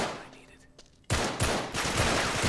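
Rapid gunfire in the video game Uncharted 3 breaks out suddenly after a quiet moment, then continues as loud, dense bursts of automatic fire.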